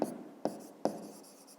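Pen or pencil writing on paper during a fifth-grade maths exercise: three sharp scratching strokes at a steady pace, each fading into a soft rustle, close and alone with no voices.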